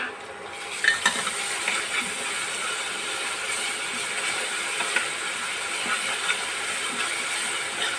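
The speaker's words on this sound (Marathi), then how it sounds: "त्यामध्ये अद्रक लसूण कोथिंबीर मिरची आणि जिरा याची पेस्ट टाकायची आणि हे सुद्धा परतून घ्यायचं" A paste of ginger, garlic, coriander, green chili and cumin sautéed with browned onions in a pan for pav bhaji, steady close sizzling with repeated stirring scrapes and light clinks.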